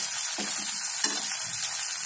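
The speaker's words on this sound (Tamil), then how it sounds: "லைட்டாக எண்ணெய் ஆட் பண்ணிக்கலாம்." Oil sizzles on a flipped Madurai veg kheema dosa on a hot griddle, a steady close crackle broken by a couple of soft scraping taps.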